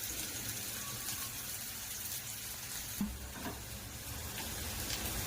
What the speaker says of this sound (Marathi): कांदा पण थोडा डार्क होईपर्यंत आपण फ्राय करून घेऊया परतून घेऊया